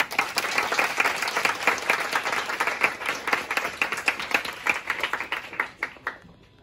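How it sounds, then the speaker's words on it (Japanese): Students at a summer camp gathering break into applause, a dense burst of group clapping that runs steadily for several seconds before thinning out and fading near the end. "3年生のみんなありがとう、拍手。"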